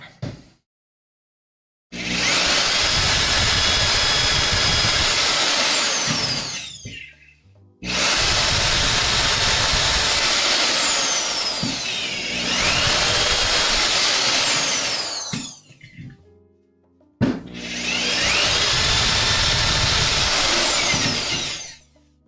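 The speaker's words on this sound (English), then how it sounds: "getting a drill and drilling through here just so that way I know where my mark is on the other side" Power drill boring through cedar for Japanese joinery on a sawhorse build, three loud sustained bursts of whining, grinding drilling separated by short pauses, close up with no talk.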